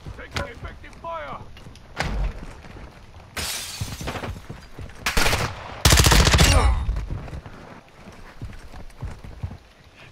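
Several loud bursts of gunfire in a Call of Duty match, with dense rapid cracks that break off between volleys. A voice talks over the shooting.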